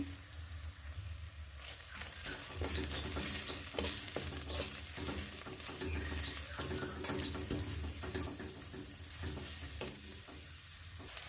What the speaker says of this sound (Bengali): মশলাটা ভালো করে কষা কষানো হয়ে গেলে তেল ছেড়ে গেলে আমি সামান্য জল দেবো